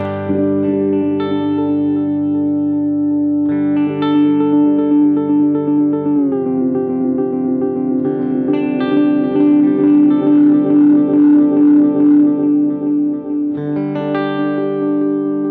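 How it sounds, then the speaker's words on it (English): Dense, sustained guitar-like tone through an Alexander Superball delay pedal with its filter turned low, soaked in echoing repeats, the upper end dulled so it sounds dark and muffled, playing continuously with no voices. "Turning the filter up, you're going to get this low frequency sound, very muffly sound"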